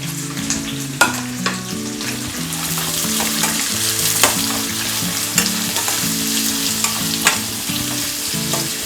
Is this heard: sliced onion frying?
yes